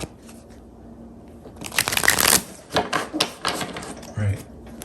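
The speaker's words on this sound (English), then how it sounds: "Let's get a couple more shuffles." Tarot cards are shuffled by hand in a couple of quick riffling bursts, close and crisp, with brief pauses between them and a spoken voice before and after.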